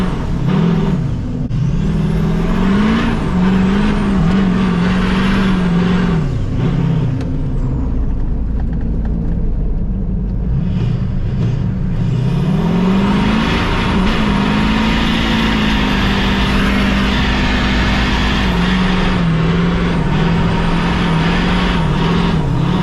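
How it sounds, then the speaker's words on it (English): A drift truck's engine roars loud and close, its pitch rising and falling as it revs hard through slides, with a steady broadband rush of tire and exhaust noise throughout. "about to start hitting some drifts"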